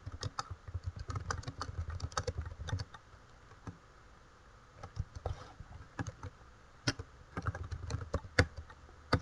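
Rapid clicking keystrokes on a computer keyboard while a SQL query is typed, coming in uneven bursts with short pauses, close and fairly quiet, with no talking.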